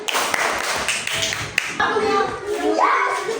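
Hands clap and pat in a quick rhythmic pattern during a children's clapping game chant, mixed with children's voices and shuffling in a lively room.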